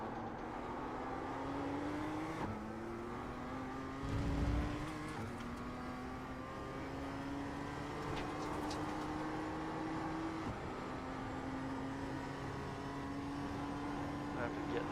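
A race car engine in a sim racing game drones steadily and climbs in pitch through each gear. Early short upshifts drop the revs every few seconds, with faint talk in the background.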